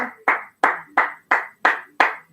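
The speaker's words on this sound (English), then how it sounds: "Let's give these women a round of applause, shall we?" Seven evenly spaced sharp claps ring out one after another, each decaying quickly; a single person clapping steadily rather than a crowd.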